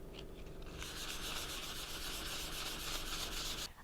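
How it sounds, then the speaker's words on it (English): Continuous rough scratching of sandpaper being rubbed back and forth across a tile tabletop, close up, stopping abruptly at the end. "our first step is to sand down this tile"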